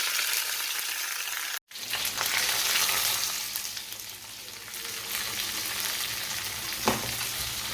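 Onion and curry leaf tempering in hot oil for chena theeyal, a loud crackling sizzle that breaks off briefly, then resumes as it is poured into the curry, with clinks of stirring and no talking.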